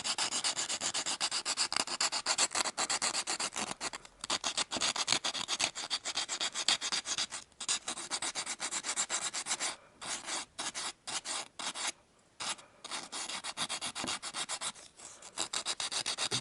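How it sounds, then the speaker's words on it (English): Steady, raspy back-and-forth scraping of sandpaper on wood, close up and continuous with brief pauses between strokes. "Do a few minutes hand sanding on this afterwards to get it all nice"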